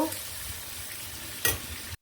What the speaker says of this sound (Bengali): আমি আর একটু ভেজে নিব